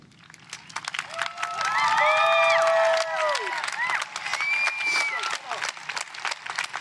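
A graduation crowd at Boulder High School applauds the faculty, with dense clapping and cheering that swells after the first second, stays loud and steady, and has whoops and voices mixed in.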